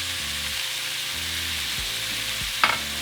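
Pre-cut store-bought meat sizzles steadily in a frying pan, a close, continuous crackling hiss with a brief clatter near the end and no talking.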